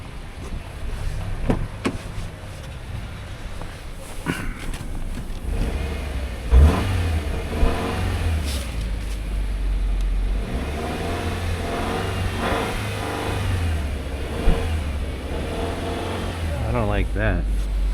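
The engine of a used Subaru Legacy starting and revving, with repeated rises and falls in pitch at moderate loudness, close by under intermittent talk.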